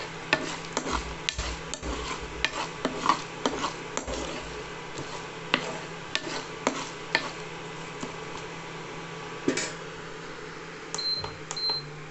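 Rice with peanuts, salt and turmeric is stirred in a pan, giving repeated scraping and clinking strokes of a spoon against metal at an uneven rhythm, close up and fairly quiet.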